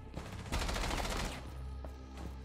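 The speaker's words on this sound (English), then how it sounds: "I think I was shooting into the wall there" Rapid automatic gunfire in a first-person shooter match, a loud sustained burst of shots fired into a wall, preceded and followed by scattered single shots and game noise.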